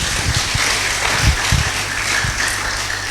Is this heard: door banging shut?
no